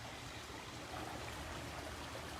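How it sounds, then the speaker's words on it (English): A stream and small waterfall spill into a backyard koi pond, making a soft, steady rush of running water that stays even throughout, with no talking. "I have a stream that I've created using a backhoe, and we carved out a pond and a stream bed"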